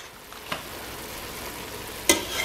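Ground meat for spaghetti sauce browns in a pan, a steady soft sizzle with a couple of sharp utensil scrapes and clicks as it is stirred.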